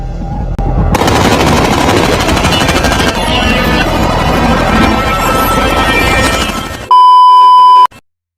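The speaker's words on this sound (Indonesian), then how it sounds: "Setelah itu dia dihujani peluru oleh Steve dan Bishop." Rapid bursts of gunfire and a dense battle mix from the film The Mechanic roar for several seconds, then cut to a loud, steady electronic tone.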